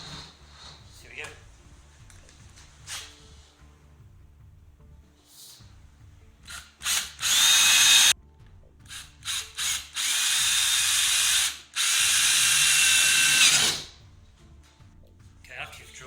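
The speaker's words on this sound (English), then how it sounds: "after you've drilled your pilot holes, which are the holes here" Power drill boring pilot holes into an R2-D2 dome at the corners of a slot, with loud bursts of whining drilling separated by quieter handling noises and pauses.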